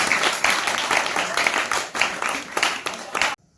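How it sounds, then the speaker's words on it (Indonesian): Applause from a small group at a community service program session, several seconds of scattered clapping with bursts and dips before cutting off abruptly, with talk over it. "Bagus, tepuk tangan."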